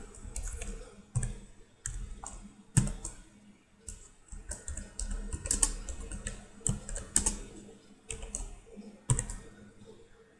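Java code being typed on a computer keyboard: quiet, irregular bursts of key clicks with short pauses, close and fairly soft.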